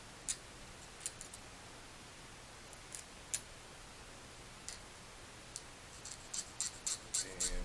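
Filing a small plastic part from a Bandai Star Wars A-Wing model kit: sparse, quiet scraping ticks at first, then a quicker run of close rasping strokes near the end, with no talk.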